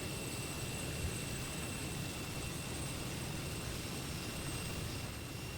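Steady, even roar of a Lockheed T-33 jet aircraft in flight in Microsoft Flight Simulator, a constant engine drone with a faint high whine and no voices.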